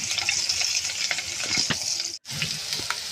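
Green chillies dropped into hot oil sizzle with a steady, bright crackle that holds close and loud throughout, broken only by a brief silent gap near the end.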